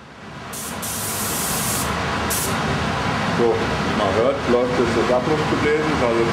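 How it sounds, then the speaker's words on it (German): Extraction blower fan running during clear coat spraying, a steady loud whooshing roar with bursts of hissing spray, while someone talks over it. "wie man hört, läuft jetzt das Abluftgebläse."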